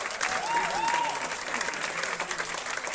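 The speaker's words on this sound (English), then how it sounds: "The crowd are going wild." A crowd applauding at the Hong Kong Football Club Open squash finals, a steady wash of clapping with a few cheers over it, moderately distant, continuing throughout.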